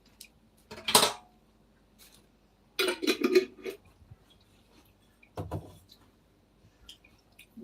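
A utensil clinks and scrapes in a pan while jackfruit is prepared for southern frying, with three short separate bursts of metallic stirring and tapping and near silence between them.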